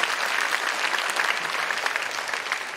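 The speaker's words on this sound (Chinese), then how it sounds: "再一次掌声给他" Steady, full applause from a live audience honoring a suona player, dense and sustained clapping with no gaps across the whole stretch.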